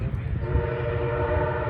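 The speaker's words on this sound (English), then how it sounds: "Train 91, MP36 number 16." A MARC commuter train, train 91, passes with an MP36 diesel locomotive, number 16, and a cab car behind. A loud, sustained horn blast sounds over a deep engine rumble close by.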